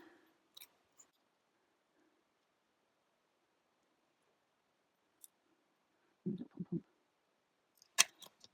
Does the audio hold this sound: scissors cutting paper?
yes